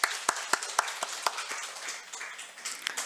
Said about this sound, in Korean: 우리 격려 박수하겠습니다